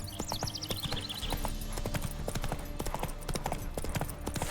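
Roach the horse gallops in The Witcher 3, hooves pounding in a quick, steady clip-clop over a busy game soundscape with a brief bird-like chirping early on.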